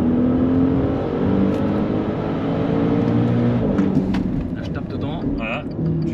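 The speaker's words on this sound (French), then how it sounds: "J'accélère." A Maserati Levante Trofeo SUV accelerates hard on a racing circuit, its engine rising in a steady, loud whirring roar heard from inside while people talk over it.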